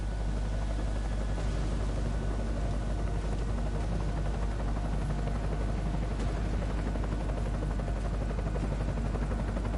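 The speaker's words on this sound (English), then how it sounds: "Enemy helo sighted." Enemy helicopter approaching in the game Deus Ex: Mankind Divided, a steady loud rotor drone with dense broadband rumble holding without pause throughout, with no voices over it.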